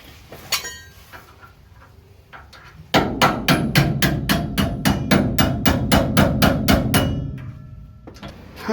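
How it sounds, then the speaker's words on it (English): A bigger hammer strikes the spring hanger on a 1960-1972 Chevy/GMC truck trailing arm, delivering a fast, even series of sharp metallic clangs after a few scattered taps and a pause. "Now we've got a bigger hammer."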